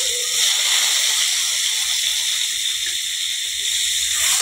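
Homemade tomato sauce hitting a pan of browned egg masala for a Tamil pepper egg fry, giving a loud continuous sizzling hiss that swells slightly midway and runs unbroken with no voices.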